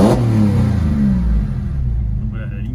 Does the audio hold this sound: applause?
no